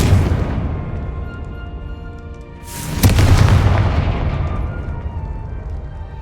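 Confringo blasting spell detonating in Hogwarts Legacy, a loud booming explosion about halfway through with a sharp crack followed by a long rumbling decay, over a steady low background rumble.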